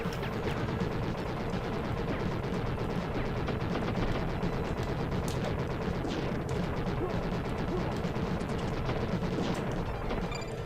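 Dense, continuous gunfire from the SNES game Wild Guns as a turret is shot, with rapid-fire bursts and impacts layered over a busy game soundtrack at steady loudness throughout.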